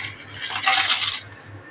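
Whole spices, bay leaves, cardamom, cinnamon, cloves and peppercorns, drop into a pan for prawn biryani, giving a short close burst of hissing sizzle and light rattling over a low steady hum.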